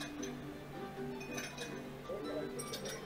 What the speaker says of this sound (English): The Joy-Con can convey to you the feeling of ice cubes colliding in a cup.